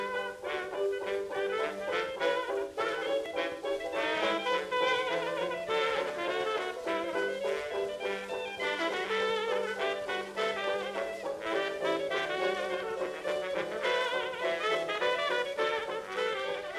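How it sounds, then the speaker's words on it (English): A 1926 jazz recording, its New Orleans front line of trumpet carrying the melody while trombone interjects lower lines, playing continuously at moderate volume with a dense, lively ensemble texture. "The recording begins with the front line, you know, the trumpet playing the melody, the trombone kind of interjecting with lower pitched"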